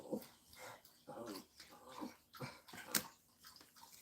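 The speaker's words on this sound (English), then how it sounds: "Little puppy dog's very upset." A small, upset female puppy growls and yaps in short, uneven bursts at passing dogs, close and fairly loud, with whimpering edges between the barks and no talk over it.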